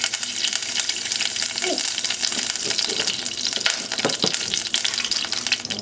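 Coconut oil melts and sizzles in a heated pot as a steady, hissing fry noise that carries on without a break, with faint stirring or scraping sounds mixed in.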